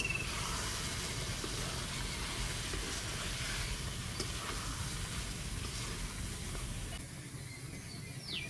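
Boiled peas and potato sizzling in hot oil in a pan for egg ghugni, a steady loud frying hiss with crackle that eases slightly near the end.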